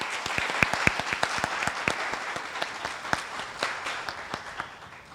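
Applause at a military change of command ceremony, individual sharp claps standing out from a softer spread of clapping that gradually fades over several seconds.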